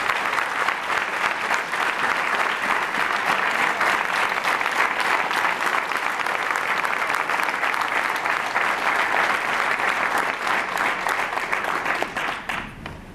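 A large audience claps steadily for an honoured speaker at a religious gathering, a dense, loud, sustained wave of applause lasting over twelve seconds before tapering off at the end.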